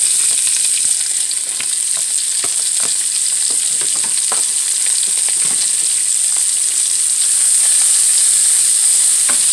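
Green pepper and scallion sizzle steadily in hot oil in a heated pan, a loud, continuous frying hiss with scattered crackles and pops throughout, no voices.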